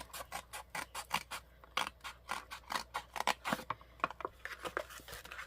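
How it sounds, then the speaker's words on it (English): Scissors cutting paper down the center for a handmade Peter Rabbit journal, a steady run of close, crisp snips in an even rhythm, with no talking over it. "Let's cut this down the center."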